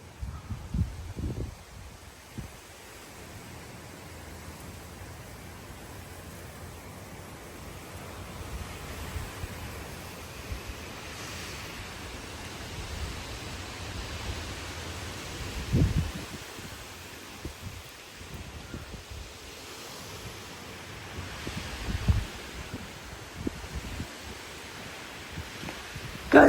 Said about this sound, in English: You can hear my urban holly swooshing.